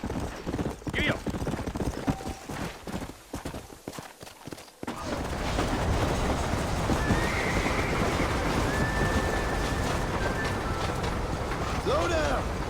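Horses in the Red Dead Redemption video game clop along steadily with a sharp whinny or two, the hooves continuous and close beneath a wagon ride while someone talks over the first few seconds.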